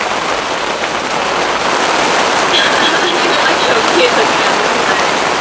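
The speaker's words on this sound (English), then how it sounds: "It is about to hammer down. I can see the rain band coming towards us." Steady, heavy rain pours down in a continuous broadband hiss that holds at an even, loud level from start to finish.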